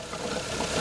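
A Toyota Altezza's 3SGE engine fitted with individual throttle bodies idles lumpily, a steady close mechanical rumble with an uneven pulse and no voices over it.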